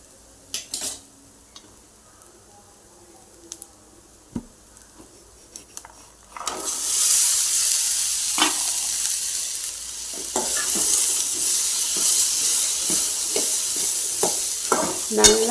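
Coconut and onion sauté in a pan: scattered utensil taps and scrapes at first, then a loud, steady sizzle takes over with repeated stirring clatter against the pan, no voices.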